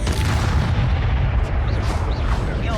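Confringo fire spell exploding in Hogwarts Legacy combat on PS4, a continuous loud booming blast with crackling bursts, no speech.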